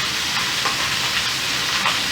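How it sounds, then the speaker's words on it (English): Skin-side chicken thighs seasoned with onion powder and paprika fry in a pan, giving a loud, steady, unbroken sizzle with faint crackles. No one speaks. "We're going to let these cook for about 7-8 minutes until the bottom, the skin side's gotten all brown and crispy"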